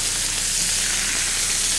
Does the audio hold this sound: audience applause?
no